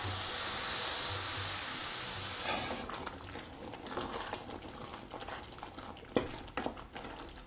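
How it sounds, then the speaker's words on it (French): Egusi sauce being stirred in a pot, a soft bubbling hiss at first, giving way to wet scraping and squelching from the spoon with a couple of sharper clinks near the end, close by. "maintenant on va mélanger"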